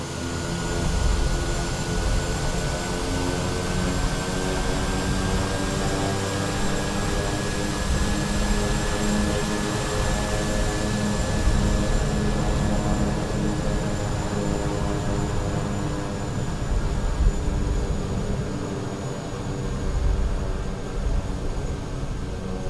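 Steady, loud drone of a Quest Kodiak turboprop engine taxiing in Microsoft Flight Simulator, a constant whine with a high tone that slowly shifts pitch, running without pause.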